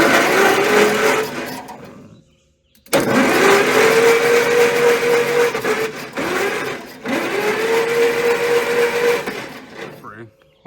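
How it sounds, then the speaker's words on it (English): A 1950s Rolls-Royce engine salvaged from scrap cranks over on its starter in several loud whirring runs with brief pauses between them. "We're gonna go ahead and try to spin it over now and watch the valves"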